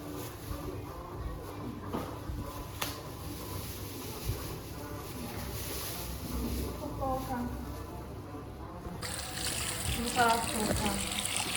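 Tap water runs steadily while a friend's hair is rinsed at home during a hair-dyeing session, a continuous splashing wash under ongoing talk, growing brighter and louder near the end.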